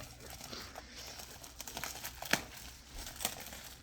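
Strong packing tape on an unboxing package is cut open, giving quiet crinkling and tearing rustles with a couple of sharp crisp snaps, close and faint, with no talk.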